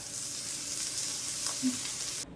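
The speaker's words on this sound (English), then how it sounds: "That pan is really hot and I've got it on a medium heat and we're just gonna let them cook." Green beans sizzle in sesame oil in a hot pan over medium heat, a steady, bright frying hiss with a faint tap partway through, close and without voices, stopping sharply at the end.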